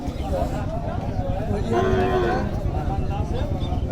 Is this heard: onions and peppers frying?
no